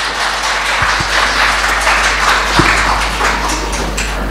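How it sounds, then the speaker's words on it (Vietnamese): Church congregation applauding during a sermon. Dense, continuous clapping fills the room at a loud, steady level, with a low hum beneath and a few heavier thumps. "Một lần nữa hãy vỗ tay cảm ơn Ngài."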